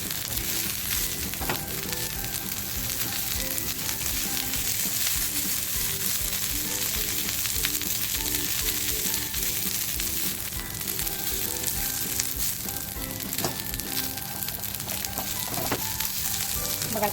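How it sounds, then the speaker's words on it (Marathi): Fresh coriander, green chilies and ginger fry in oil for a crab curry, producing a steady, moderately loud sizzle with occasional stirring clicks, continuous and without speech. "कोथंबीर हिरवी मिरची आणि अद्रक घेतलं तेही टाकते तेही कसं फक्त याच्यामध्ये आपल्याला फ्राय करून घ्यायचं"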